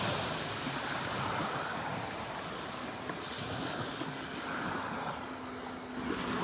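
Ocean waves wash steadily onto a beach in North Naples, Florida, making a continuous broad surf roar with some wind noise on the microphone and no talking.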